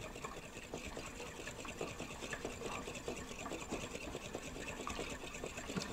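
A fork or whisk beats eggs and milk in a bowl with rapid, steady clicking and tapping strokes, close and continuous, over a constant background hum.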